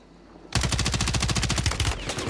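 Rapid automatic gunfire in Warzone 3 bursts in suddenly as a dense, loud, evenly spaced string of shots lasting nearly two seconds before cutting off.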